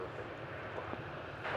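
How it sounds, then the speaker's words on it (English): A nine-year-old Boeing 777-300 airliner bound for London taxis or passes at DFW Airport, producing a steady, broad jet-engine roar at moderate distance that swells slightly toward the end. "This is a 9-year-old 777-300. Again, it's going to London."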